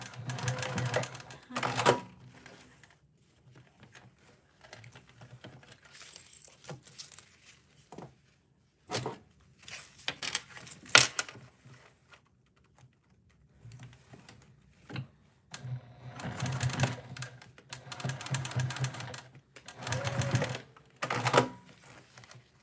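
Sewing machine stitching a heart-shaped bag fitted with a super non-stick needle, running in close, loud bursts of rapid needle chatter separated by quiet pauses, with a voice talking in between.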